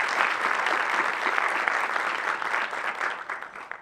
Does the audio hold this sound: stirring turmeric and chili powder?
no